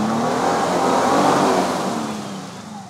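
A Toyota Sequoia TRD Pro in four-low with lockers engaged, stuck in mud, its engine revving hard in a sustained, loud roar that swells and then eases off, close up with no voices.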